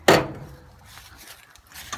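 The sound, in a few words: door of 1967 International 1600 truck being handled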